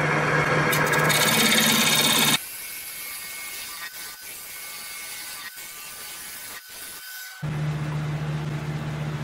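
A wooden box spinning on a wood lathe at 1000 RPM, with a loud rushing whir from the machine at the start and end and a quieter stretch of rubbing and scraping between.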